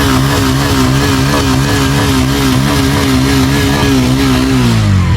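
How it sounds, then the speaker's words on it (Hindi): Up close, a Bajaj Pulsar N160 motorcycle engine runs steadily, then is revved; its loud, continuous throb rises and falls in pitch and drops back toward idle at the end, with no voices. "गाड़ी स्टार्ट हो गई, साउंड"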